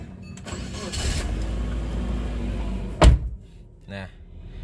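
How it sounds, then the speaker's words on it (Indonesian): Engine of a 2004 Suzuki Every van cranking and catching with a sharp loud burst, preceded by a steady low hum and followed by quieter idling and a brief second burst. "Kita nyalakan mesinnya teman-teman."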